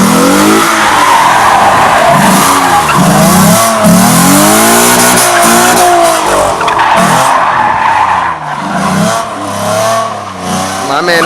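A 3.7 V6 Mustang drifts hard, tires skidding and squealing continuously while the engine revs and wails up and down, loud and close throughout.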